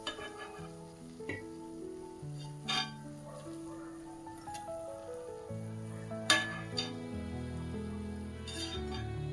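Instant jalebi frying in hot oil, a continuous sizzle with occasional clinks and knocks of utensils against the pan, close and moderately loud.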